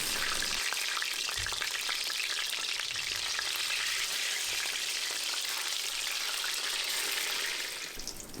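Eggplant slices frying in oil, a steady crackling sizzle that stays even and close for several seconds before tapering slightly at the end.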